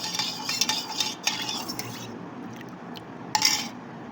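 A spoon briskly stirs jaljeera into a sherbet of mint leaves and mosambi juice, making close, busy clinks and swishes against the vessel that pause briefly, then return once more, with no speech.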